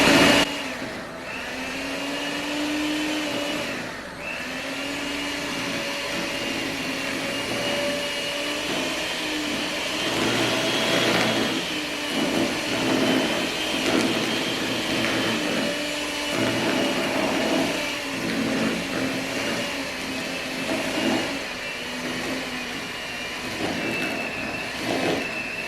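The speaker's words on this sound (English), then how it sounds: "You can do it with a hand mixer, you can do it in a staple mixer" Hand mixer whirring steadily through Halloween treat dough, a continuous motor drone with slight pitch shifts as the beaters work, close and fairly loud with no talking.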